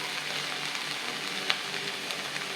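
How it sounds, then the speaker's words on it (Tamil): Tomatoes and green chillies sauté in a pan for potato masala kurma, giving a steady, close sizzle with a light crackle partway through and no voices. "இதுமாரி பச்சை மிளகாயும் போட்டுருக்கேன். இப்போ இது எல்லாத்தையும் நல்லா வதக்கணும்."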